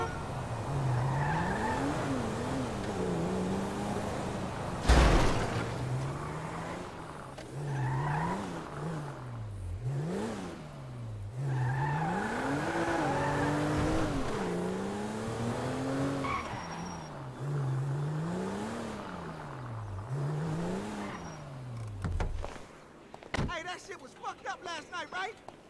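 A car in GTA 5 drives hard with a revving engine and repeated tire squeals and skids sweeping up and down, sustained and close, with a sharp crash near the middle and a voice talking over it.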